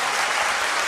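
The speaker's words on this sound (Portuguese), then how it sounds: "Quem pode dar o melhor aplauso a Deus nessa manhã?" Dense, continuous applause from a church congregation during a Sunday morning service, a brief wash of many hands clapping at once, loud and close.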